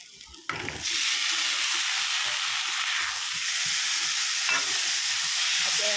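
Bottle gourd frying with onion, ginger and garlic, a sudden loud sizzle bursting in just after the start and hissing steadily close by, with a bit of stirring.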